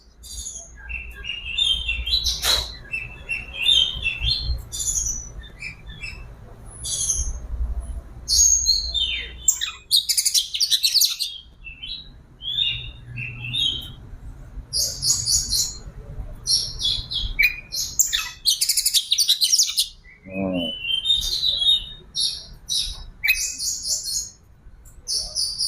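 Bright, varied oriental magpie robin chirps and whistled phrases come in quick bursts, loud and close, with short pauses between song runs over a quiet low hum.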